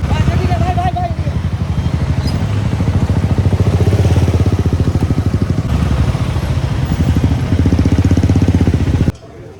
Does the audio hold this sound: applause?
no